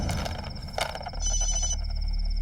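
A telephone rings with a bright electronic trill, one short burst followed by a sustained ring, close and clear with no talking.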